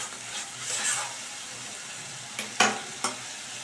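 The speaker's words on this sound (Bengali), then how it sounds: "এবার ভালো করে আমি মশলাটাকে কষিয়ে নিচ্ছি" Spice paste with salt frying in a pan, a soft steady sizzle broken by a few sharp spoon scrapes and knocks against the pan, close and fairly quiet.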